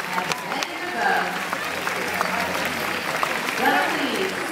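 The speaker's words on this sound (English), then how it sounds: "please give your big round of applause to the true stars themselves, our beautiful dolphins" An audience at a dolphin show at Sea World on the Gold Coast, Australia claps steadily in a large open-air stadium, a dense wash of applause under an announcer's amplified voice.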